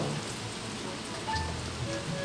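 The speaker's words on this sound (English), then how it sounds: "Okay, so it's raining, guys, so it's okay." Steady rain falling, a soft continuous patter with a few brighter drops, close and moderately loud, no voices.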